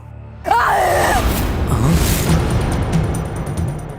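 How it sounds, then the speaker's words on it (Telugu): A terrible, drawn-out scream rises and wavers in an animated Telugu mythological series about Ganesha, loud and close, followed by rumbling dramatic background sound. "ఎవరిది భయంకరమైన అరుపు"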